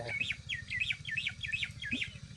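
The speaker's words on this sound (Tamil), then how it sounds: "ரெண்டு மூணு மைனா நாலு மைனா மேலே உட்காந்து பழம் சாப்பிட்டுக்கு இருக்குது" Mynas and a sparrow sit in a fruit tree, giving repeated quick chirping calls in a lively rhythm, moderately near with faint background hum.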